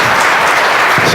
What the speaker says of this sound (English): Give him a big round of applause as he goes back to his seat